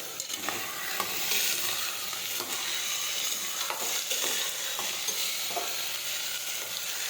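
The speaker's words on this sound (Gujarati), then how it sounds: "હવે આપણે સાતળી દઈશું." Cowpea (chori) curry is sautéed and stirred in a hot pan, a loud, continuous sizzle broken by repeated scraping strokes of the spoon, with no talking.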